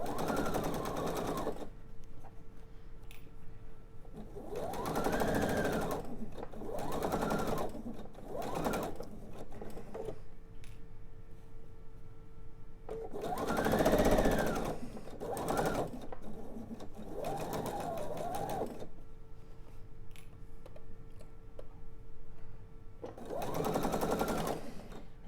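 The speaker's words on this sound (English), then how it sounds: "I'm just going to sew the length" A domestic sewing machine stitches fabric pieces for a pillow in several long whirring runs, each lasting a few seconds and separated by quiet pauses, close and steady.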